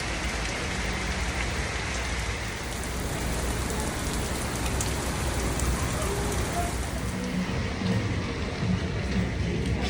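Heavy rain pours steadily at an outdoor festival, a loud, dense, unbroken hiss of drops hitting surfaces for the whole stretch, with no voices standing out.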